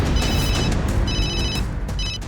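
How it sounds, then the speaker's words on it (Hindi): A mobile phone rings with an incoming call in a Hindi TV drama scene, three bursts of a bright electronic ringtone repeating over a steady low background hum, with no talking. "एक ये दिव्यम बंसल के फोन पर एक कॉल आ रही है"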